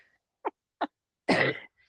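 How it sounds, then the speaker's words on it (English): Two short, quiet throat sounds followed by one louder, harsh cough-like burst, close by, then silence. "I'm like coughing here"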